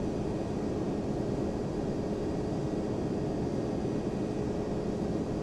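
A Boeing 767-300 in Flight Simulator X spools up for takeoff, its engines giving a steady broadband roar with a faint whine held at constant loudness throughout.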